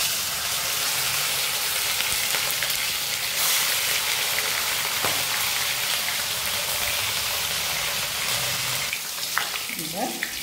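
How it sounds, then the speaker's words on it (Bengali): Katla fish frying in hot mustard oil, a steady loud sizzle with crackling that fills the whole stretch, ending with a few utensil scrapes and clinks. "এবার এই মাছগুলো ভালো করে ভেজে নেব।"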